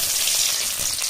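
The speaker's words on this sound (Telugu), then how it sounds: "చూడండి ఈ ఆనియన్స్ బాగా వేగుతూ ఉంటాయి ఒక పక్క" Onions fry in hot oil with curry leaves, giving a steady, close, unbroken sizzle that stays loud throughout with no talking.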